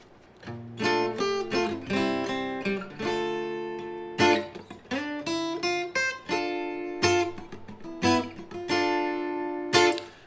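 A melodic acoustic guitar riff from a song, plucked single notes and short chord stabs, clear and close, moving in a steady rhythmic pattern with no talking.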